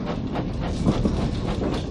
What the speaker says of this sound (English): Thomas chuffs happily across the stone bridge